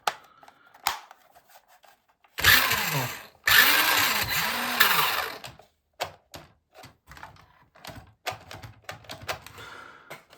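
A Nikko Turbo Climber RC car from the 1990s whirs its electric motor in short bursts, with two longer revving runs followed by quick clicking blips and pauses, close and fairly loud.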